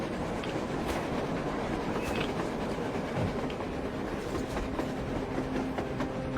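A train in the video game Metro Exodus rumbles past with rhythmic clickety-clack of wheels on rails, steady and fairly close, with faint metallic squeaks over the continuous rolling noise.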